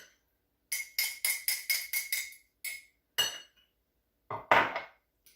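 A whisk beats buttermilk batter in a bowl for fried green tomatoes, giving a quick run of about eight bright rhythmic clinks, a pause, then a few more louder scraping strikes, close up with no talking.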